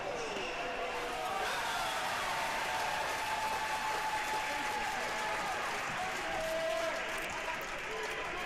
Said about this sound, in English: Hear the crowd getting loud